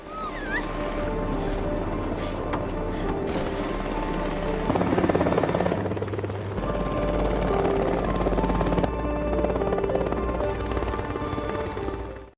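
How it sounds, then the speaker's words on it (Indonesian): A UN evacuation helicopter's steady rotor drone holds throughout, loud and close, with layered background sound shifting midway. "satu helikopter PBB pun tiba untuk mengevakuasi mereka"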